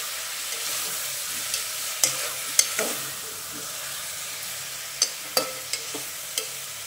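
Chicken rassa being stirred in a frying pan over a steady low sizzle, with a few sharp scrapes and taps of the spoon scattered through the clip and no voices.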